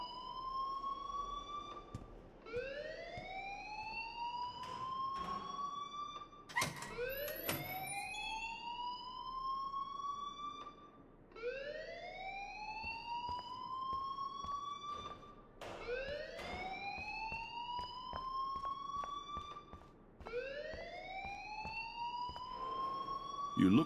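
A fire alarm in the video game Life is Strange wails in repeated rising siren sweeps, each a few seconds long, sounding continuously at moderate volume with faint background noise.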